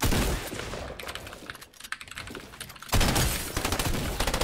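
Rapid bursts of automatic gunfire from a new gun in the Fortnite video game, loud and close, in two dense volleys separated by a brief quieter stretch of scattered shots.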